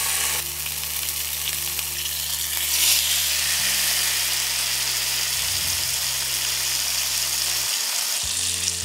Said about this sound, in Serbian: Mast se zagrejala i sada ću šnicle spuštati da se prže.